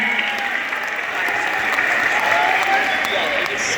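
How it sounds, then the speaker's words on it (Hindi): A large audience at a religious storytelling gathering claps loudly and steadily to greet a storyteller, dense, continuous applause filling the space for several seconds. "आप सब दोनों हाथ उठाकर तालियां बजाकर उनका प्रणाम करें"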